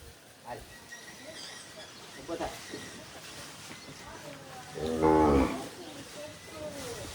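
A cow moos loudly and with strain as she labours through a hard calving in a village setting. The sustained harmonic bellow peaks near the middle, with softer earlier calls and people talking around her.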